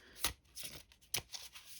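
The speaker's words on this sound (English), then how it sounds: "I just love how these cards shuffle" Divine Abundance oracle cards, slightly larger and wider than standard, are shuffled by hand in quick riffling bursts, several crisp papery shuffles close up and quiet.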